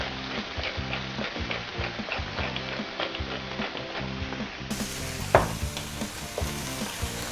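A fish fillet fries in a hot pan seasoned with salt and black pepper, a steady crackling sizzle throughout with one sharper knock or clatter partway through.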